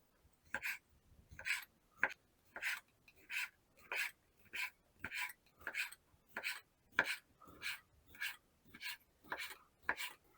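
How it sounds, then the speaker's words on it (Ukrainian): Knife cutting lightly smoked sausage with bits of meat into strips on a board, about sixteen crisp, evenly spaced chops at a steady rhythm, close and fairly quiet with no talking. "ковбаска в мене зі шматочками м'яса, вона теж трішки прикопчена, її нарізаю на смужки"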